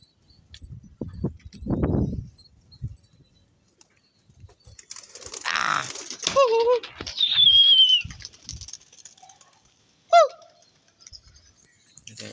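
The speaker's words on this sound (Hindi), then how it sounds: "यहाँ से उड़ गए कबूतर, इनको थोड़ा वो लंबा उड़ाएंगे।" Trained pigeons are released and flap off in a brief burst of wingbeats amid scattered voices and outdoor noise, with a few chirpy calls and a sharp clink near the end.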